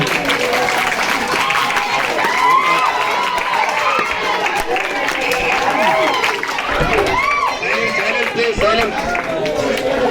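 A crowd of college students at a fire-safety demonstration applauds loudly and continuously, close and dense, with voices and chatter mixed into the clapping.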